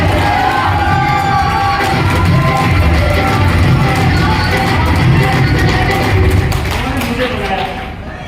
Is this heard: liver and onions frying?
no